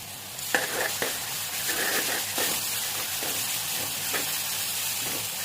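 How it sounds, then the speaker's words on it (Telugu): Chopped onions and chillies fry in a pan with a loud, continuous sizzle, while a spoon stirs and taps against the pan every so often. "కట్ చేసి పెట్టుకున్నటువంటి ఆనియన్స్ మిరపకాయలు అన్నీ మంచిగా గోలే విధంగా వేయించుకోవాలి"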